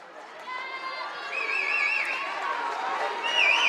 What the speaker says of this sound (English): Crowd cheering them on now on both ends.